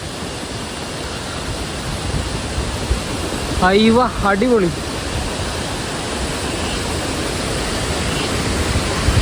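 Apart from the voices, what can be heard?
Thusharagiri waterfall with water splashing in the rain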